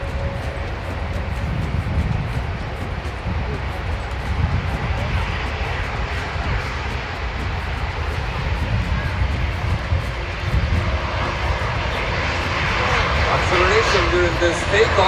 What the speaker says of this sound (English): In this moment, takeoff thrust setting. Brake release ordered by the team leader and then go!